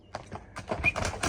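A horse readied for an ulak event gallops, its rapid hoofbeats clip-clopping in a brief, fairly faint burst with no voices.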